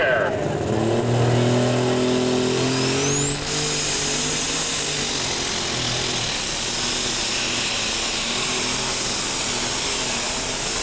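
A John Deere super stock pulling tractor revs hard at a tractor pull, its loud engine roar climbing in pitch and then holding a steady high scream with a broad, close, continuous rumble.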